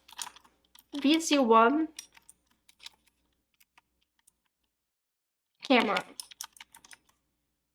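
A computer keyboard gives sparse, soft keystroke clicks between short bursts of a nearby person speaking.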